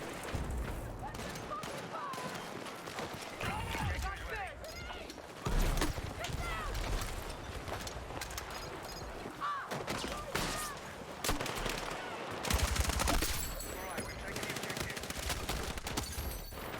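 AK 205 carbine fire in Battlefield 6: repeated loud bursts of automatic gunfire with sharp cracks and low booms, scattered across a busy battle mix, with a voice talking at times.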